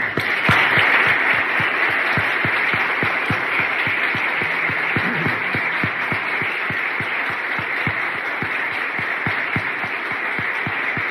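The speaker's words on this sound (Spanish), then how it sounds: "Les pido que lo recibamos como se merece, con una cálida ovación" A warm ovation greets Mexico's new foreign secretary, Roberto Velasco, at a formal event: loud, sustained crowd applause with some sharp individual claps standing out, unbroken throughout.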